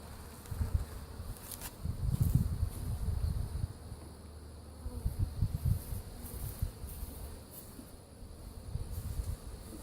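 Honey bees hum from an open hive, a low, close buzzing that swells and ebbs in irregular waves with no voices over it.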